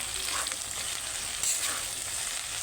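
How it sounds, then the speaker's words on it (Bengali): Okra and potato pieces fry in a pan with a soft, even sizzle and light crackle, fairly quiet and steady throughout. "দেখো ঢেঁড়স আলুটা এখানে ভাজতে আমি বসিয়ে দিয়েছি।"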